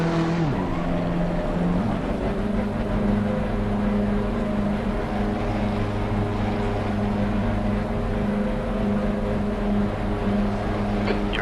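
A racing car in a video game drones steadily around a track, its close, loud engine holding a sustained pitch after a brief shift at the start.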